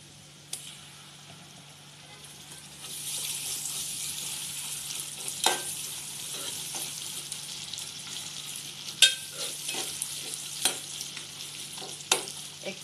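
Onions sizzle in a pan with cardamom, a bay leaf and ginger garlic paste, a soft, steady frying hiss that swells after a few seconds, broken by occasional clicks and scrapes of stirring.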